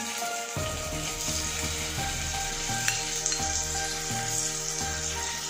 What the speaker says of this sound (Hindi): पनीर को मैं सेल्लो फ्राई करूंगी